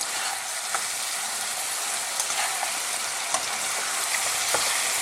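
Pork ribs in a sweet garlic sauce with soy and oyster sauce being tossed in a hot pan over medium-high heat, a loud, steady sizzle with occasional clacks and scrapes of stirring.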